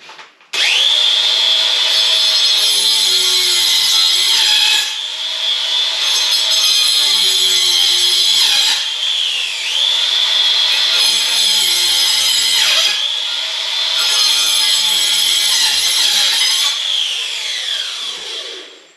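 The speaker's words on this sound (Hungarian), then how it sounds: "Ez egy 18 voltos életveszély, ez a flex korongba rakott körfűrész." A cordless 18-volt angle grinder fitted with a circular saw blade cuts into timber while removing a beam wall, a loud, close, high-pitched whine that comes in four long cutting passes separated by brief dips.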